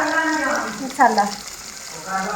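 Whole spices tempering in hot oil in a pan for a moong dal tadka, a steady sizzle and fry running throughout with a brief louder crackle midway.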